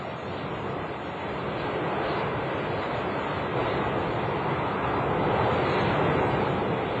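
Early British jet aircraft engine producing a steady, broad roaring rush that swells slightly louder over several seconds, continuous and without talk.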